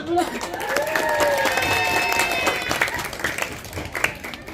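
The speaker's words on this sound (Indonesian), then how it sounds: "Tepuk tangan dulu" Audience applause at a neighborhood youth quiz competition, lively clapping with some cheering and voices mixed in, sustained then tapering into scattered claps.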